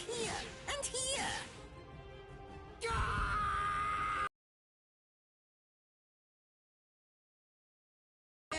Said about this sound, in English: Compared to the screams that a woman is able to produce, a man's lack a certain charm.